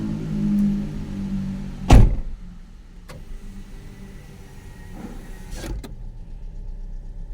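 A car engine idles after starting, with a steady low rumble and a loud thunk near the start, then a quieter, even hum with a few faint clicks.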